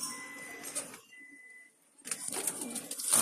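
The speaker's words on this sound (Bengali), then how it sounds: "আর এটা একদমই পিওর ঘুঘু সাইজের কবুতর" Small wild jalali pigeons, pure dove-sized birds, cooing in soft bursts with a quiet gap in the middle, close by, with faint background noise and a thin steady tone alongside.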